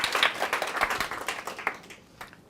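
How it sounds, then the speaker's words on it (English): A short burst of applause from a talk audience, many hands clapping together and fading out after a couple of seconds. "Please, round of applause for Emily Hunt."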